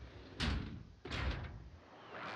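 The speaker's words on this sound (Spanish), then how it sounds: "Voy a abrir la puerta" Doors in the video game Warzone open with two sharp, close banging impacts about a second apart, each trailing off into a low rumbling room tone.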